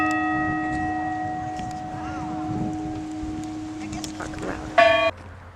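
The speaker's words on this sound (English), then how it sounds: "Ava's about to ring the bell." A bell in the La Purisima Concepcion Mission tower, rung by a child: a lingering, fading hum from an earlier strike, then a fresh sharp clang near the end that is quickly cut off, with faint voices around.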